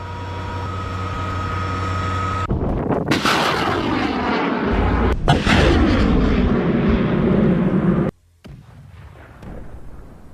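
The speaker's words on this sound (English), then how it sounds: "BM-21 Grad is deployed to strike the advancing column." BM-21 Grad rocket artillery fires on an advancing armored column, loud sustained roaring blasts and whooshing launches that rumble for several seconds, then cut off abruptly into a quieter rumble.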